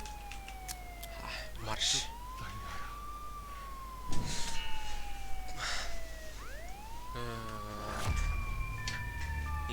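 A police siren in the Contraband Police video game wails and sweeps up and down, then switches to quicker warbling yelps, loud and steady over a low engine drone, with brief speech.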